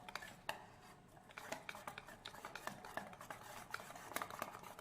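Aloo paratha batter is stirred in a bowl, soft quiet scraping and tapping strokes of a spoon coming in quick irregular succession.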